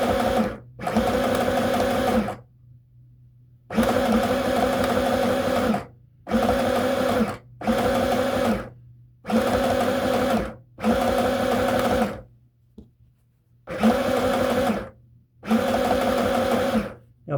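A sewing machine stitches a seam in a red cotton skirt in repeated loud, steady bursts of whirring, each lasting one to two seconds and separated by short pauses.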